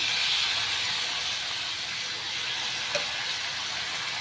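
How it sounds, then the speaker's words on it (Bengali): Hot water hitting a pan of soybean curry, a broad steady hiss of steam that fades slightly, with one faint tap near the end and no speech. "এবারে অল্প একটু গরম জল দিয়ে দেবো"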